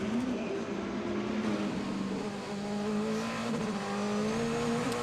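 At the 2019 DTM race at Zolder, a DTM race car revs hard and spins its wheels leaving the grid box into the pit lane. The loud engine note climbs and holds steady, with a hint of tyre squeal.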